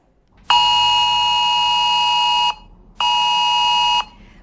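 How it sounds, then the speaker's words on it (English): Emergency alert test tone on an Android phone: a loud, harsh electronic buzzing beep that sounds for about two seconds, stops briefly, then repeats for about a second and a half, close and piercing. "There was a loud beep also along with the message."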